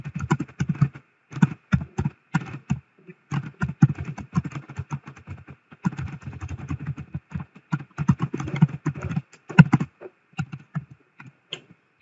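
Keys clatter on a computer keyboard while entering a regression model into an Excel spreadsheet, close irregular bursts of typing separated by short pauses, with no talking.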